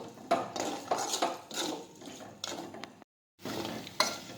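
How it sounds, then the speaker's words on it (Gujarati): A spoon stirring spices and crushed garlic chutney into an okra, potato and tomato curry in a pan, with repeated scraping strokes and light clinks in an uneven rhythm, close by, pausing briefly near the end. "હવે બધા મસાલા છે તે મિક્સ કરી દઈશું"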